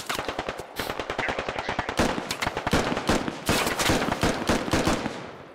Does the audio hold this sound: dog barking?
no